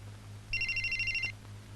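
A telephone rings with a short burst of rapid trilling electronic pulses, about a second long, over a low steady hum in a quiet room.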